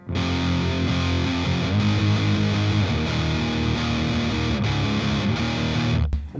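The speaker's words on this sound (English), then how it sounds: "And then it goes into the chorus, which sounds like this." Heavily distorted electric guitar plays the chorus of a song, a dense, loud, sustained wall of chords with shifting notes underneath, cut off abruptly near the end; no one talks over it.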